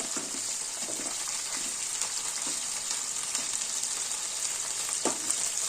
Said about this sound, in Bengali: টমেটো কুচি রেখেছিলাম, সেটা দিয়ে দিই। একটু ভালো করে নেড়ে নিই।